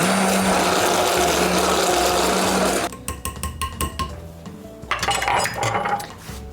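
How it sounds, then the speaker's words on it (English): An immersion blender whirs loudly and continuously through quiche filling for about three seconds, then stops and gives way to clinking of dishes and utensils in the kitchen. "We're just gonna blend this till it's smooth."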